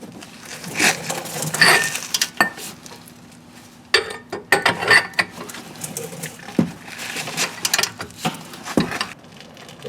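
An 18mm caliper bolt being worked loose with a wrench on a 2010-2015 fifth-generation Camaro during a rear wheel bearing job, heard as scattered close metallic clicks, ratcheting bursts and scrapes in uneven clusters.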